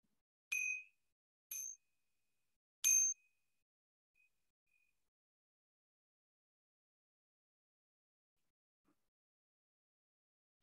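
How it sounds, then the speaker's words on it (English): A meditation bell rings at the close of a relaxation and compassion practice: three bright, clear strikes in about two and a half seconds, each fading quickly, followed by near silence. "as you hear the sound of the bell"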